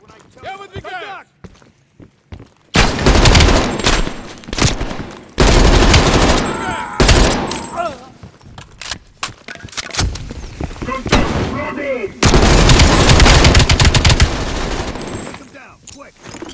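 Rapid bursts of gunfire from the Call of Duty Black Ops Cold War campaign finale, loud automatic volleys alternating with brief pauses, shouted voices heard between and under the shots.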